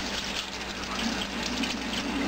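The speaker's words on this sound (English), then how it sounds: "running it under the water." Water runs steadily from a tap, splashing continuously over an Omega 8006 juicer screen held beneath the stream.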